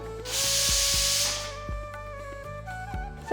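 A pressure cooker holding boiled dal for Telugu bobbatlu vents a loud steady hiss of steam for about a second and a half, then tapers off while metallic clinks and thuds continue nearby.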